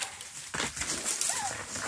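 A ferreting dog out on rabbit control whimpers and yips in short, high whines, fairly close, over a faint outdoor background.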